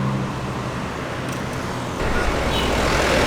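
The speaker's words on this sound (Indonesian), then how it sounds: "Dari arah Medan masuk bus ALS menuju Jawa 254 Skyliner" An ALS Skyliner intercity bus rolls onto the Merak ferry dock, a steady low engine and road rumble amid dock traffic, growing heavier and nearer partway through.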